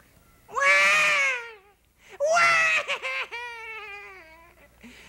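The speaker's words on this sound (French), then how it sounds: "Matou avait réveillé un bébé qui se met à pleurnicher." A baby whimpers and cries in two drawn-out, wavering wails separated by a short pause, close and loud with no other sound.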